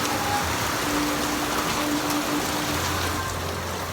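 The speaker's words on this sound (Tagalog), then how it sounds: "Please lang tumigil ka ng ulan ka kasi magsasampay ako." Heavy rain pouring down steadily, a loud dense hiss of drops striking surfaces close by, unbroken for the whole stretch with no voices.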